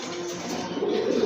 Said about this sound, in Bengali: আরেক জোড়া রেসার কবুতর